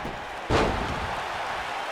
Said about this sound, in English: DDT by Jericho